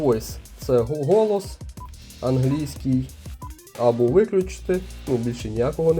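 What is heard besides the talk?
No everyday noise stands out behind the speech.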